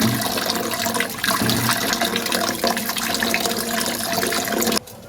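Tap water runs steadily and loudly while a small batch of shrimp is rinsed for a vegetable curry, the broad splashing flow continuing nearly throughout before cutting off abruptly near the end.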